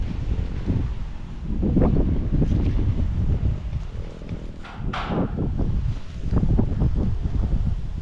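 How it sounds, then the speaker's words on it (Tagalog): Strong wind buffets the microphone in heavy, surging gusts, with a rough low roar rising and falling throughout. "Lakas ng hangin."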